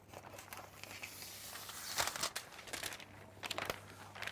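Squares of clear and metallic green cellophane being handled for a single-stem cymbidium arrangement, soft crinkling and rustling that swells into a few sharper crackles, quiet and close.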